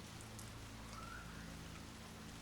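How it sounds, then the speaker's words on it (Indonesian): Heavy rain falls steadily and close by on a mountain hiking trail, a dense continuous hiss with no voices. "Posisinya hujan gede"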